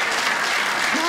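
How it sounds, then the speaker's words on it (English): A short burst of audience applause, dense clapping from a crowd with a voice briefly rising over it at the end. "Give him a round of applause."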